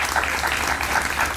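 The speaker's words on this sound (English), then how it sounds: "we should give a round of applause and a big congratulations to Siva for putting out tonight this beautif" Audience applause at an evening event celebrating an artwork, a steady wash of many hands clapping at moderate loudness, continuous and even throughout the short stretch with no voices on top.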